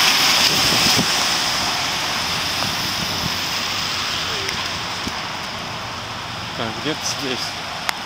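Warm rain falls steadily on a street in Waltham, Massachusetts, a broad continuous hiss heard close by throughout, with someone briefly speaking over it near the end.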